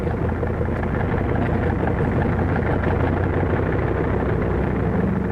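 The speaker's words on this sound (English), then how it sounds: "The sound of the engines warming up starts before dawn, echoing back from the mountains that flank the field." Aircraft engines, likely wartime bombers, warm up before dawn on an airfield flanked by mountains in the Aleutians, a steady dense low drone that runs unbroken throughout without any voices.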